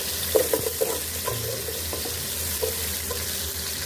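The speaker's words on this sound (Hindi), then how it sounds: "यहाँ पर हमने एक मीडियम साइज़ का प्याज ले लिया, वो कट कर लिया था, वो इसमें हम डाल देंगे और इसको हमने फ्राई कर लेना है।" Chopped medium onion fries in a pan with a steady, loud hiss and occasional pops and stirring clicks, close and continuous with no talking.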